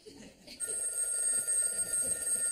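Household telephone ringing indoors in a sitcom scene, a steady electronic trill that starts abruptly and continues, fairly faint, with a low murmur of voices beneath.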